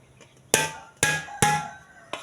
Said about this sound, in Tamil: இப்போ நான் வந்து மறுபடியும் இந்த பாத்திரத்தை உங்கள் முன்னாடி நெளிக்கிறேன்